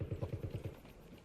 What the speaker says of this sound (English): Heard footsteps.